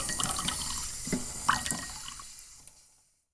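Water runs from a tap in a short, splashy burst that trickles and drips, then fades into silence, with no voices over it.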